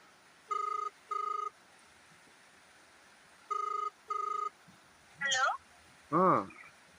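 A mobile phone call rings in two pairs of evenly spaced electronic tones, with a pause between the pairs, and is followed by a couple of short spoken syllables.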